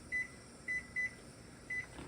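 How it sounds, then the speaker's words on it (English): A kitchen timer gives four short, faint electronic beeps in an irregular rhythm as it is set while making sage apple jelly, with no one speaking. "Kitchen timer."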